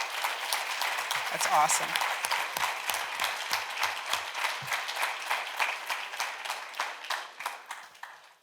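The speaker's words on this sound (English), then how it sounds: "Would everyone please give Maddie and Lucy another round of applause for their bravery?" A room at a township trustees meeting breaks into applause for two girls, close, dense clapping that gradually thins out, with a brief spoken remark near the start.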